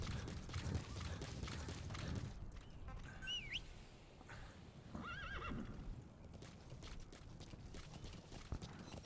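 A horse in the Metal Gear Solid V: The Phantom Pain video game whinnies twice in high, wavering calls over a steady clatter of hooves, with rumbling background game sounds throughout.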